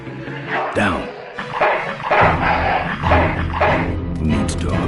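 Dog in the video game Full Throttle barks and yips in short, loud bursts, mixed with game effects and someone talking.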